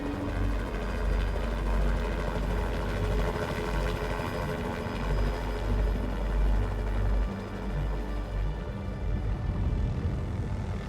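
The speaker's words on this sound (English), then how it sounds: "All of a sudden I hear this helicopter flying overhead" Helicopter flying overhead during an aerial rescue: a steady, loud rotor and engine drone with low throbbing pulses that fades slightly toward the end.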